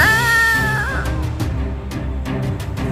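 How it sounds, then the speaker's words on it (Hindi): A black cat gives one drawn-out, wavering meow as a sound effect in a spoken story, over a low, steady background hum. A few soft clicks follow the cry. "काली बिल्ली"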